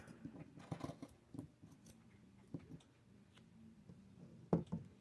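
Scissors cut through a sock along the heel line while making a gnome, a few quiet, close snips and crisp clicks spaced apart over a soft background.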